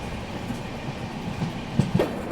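A train travels toward Andheri in Mumbai, giving a steady rumbling roar with a couple of rhythmic wheel clacks toward the end.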